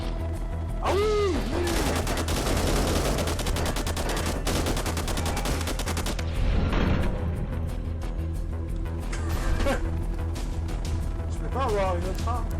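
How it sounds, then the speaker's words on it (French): Rapid machine-gun bursts from a weapon in the video game Fallout: The Frontier, loud and sustained, with long stretches of continuous fire, brief pauses, and voices talking over and between the shots. "utiliser la machine gun"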